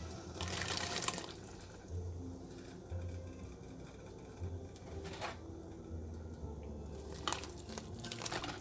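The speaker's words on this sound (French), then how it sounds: "Voilà notre pulpe en pleine ébullition." Peanut pulp boils in a pot, a faint, steady bubbling with soft rhythmic pops and gurgles that continue quietly throughout.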